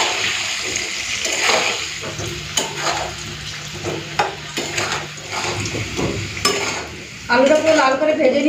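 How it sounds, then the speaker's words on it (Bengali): Potatoes with salt and turmeric fry in hot oil in a pan, a loud continuous sizzle with intermittent scraping and stirring clatter close by, and no voices. "আলুটা পুরো লাল করে ভেজে নিয়েছি, তুলে নিই।"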